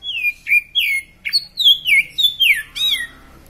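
A caged Kacer, an oriental magpie robin, sings a series of loud, close, whistled and chirping notes in quick bursts with short pauses between them, with no other voices.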